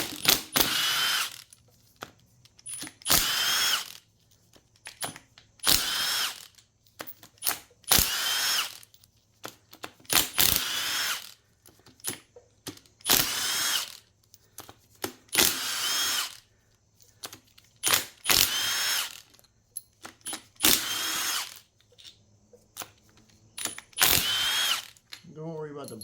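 A power tool backs bolts out of a Tough Torque K66 during a teardown, firing about a dozen short loud whirring, ratcheting bursts with brief quiet gaps between them.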